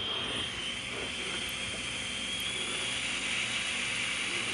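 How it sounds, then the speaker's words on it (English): Compressed air is applied to the clutch passages of a GM 4L60E transmission during a teardown, giving a steady hiss with faint mechanical clicking throughout, fairly quiet and without speech. "we want to check for the operation of these clutches. And the way you do that is you just apply air in these holes"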